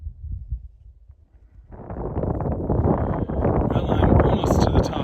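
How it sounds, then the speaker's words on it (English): Wind gusts across a high rocky mountain trail near Cooper Spur on Mt. Hood, rising from a low rumble into a steady loud rushing roar against the microphone. "There's a little wind today, but it's not too bad."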